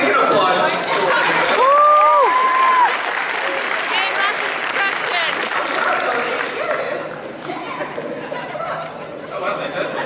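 Audience applause rolls through a hall at a comic con panel, a steady dense wash of clapping lasting throughout, with chatter, laughter and a voice rising briefly over it.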